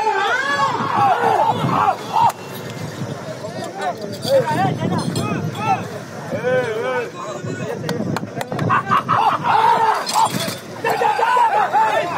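Spectators shout and cheer loudly at a village bull race in Avulampalle, Anantapur district, new-category round with RR bulls, many overlapping yelling voices close by in a continuous, surging roar with occasional sharp knocks.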